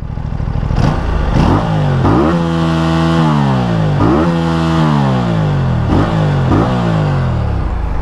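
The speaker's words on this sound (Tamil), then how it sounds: "இந்த இன்லைன் 2 சிலிண்டர் இன்ஜினோட சவுண்டு இதுதான் ஐடியல்" An Aprilia RS457's inline two-cylinder engine revs hard and repeatedly, with rising and falling throttle blips over a steady rumbling idle, very loud and close.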